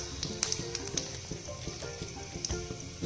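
Black peppercorns, cloves, bay leaves and garlic cloves crackle in hot oil for a chhole curry. The spitting pops are quiet and irregular, with a few sharper ticks over a low background.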